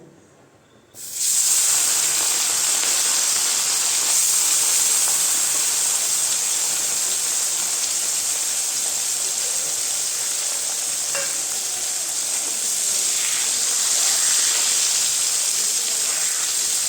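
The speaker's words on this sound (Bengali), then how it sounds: "মাছটা আমি বেশি লাল করে ভাজবো না, একদম হালকা করে ভেজে নেব" Small boroli fish sizzle loudly in hot mustard oil in a kadai, a steady, dense frying hiss that starts abruptly as the fish go in and holds on close and strong.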